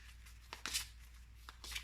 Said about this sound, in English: I want to shuffle them even more